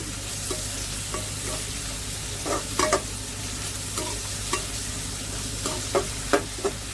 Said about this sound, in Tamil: டொமேட்டோ போட்டுக்கலாம். இதெல்லாம் நல்லா வதக்கிக்கலாம்.